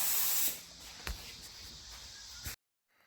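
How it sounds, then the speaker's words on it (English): A spray gun lays base coat paint onto a Toyota Prius in a body shop: a loud hiss that drops to a steadier, quieter spray, with a couple of short bursts before it cuts off abruptly into near silence. "Applying the base coat right there on the little Prius."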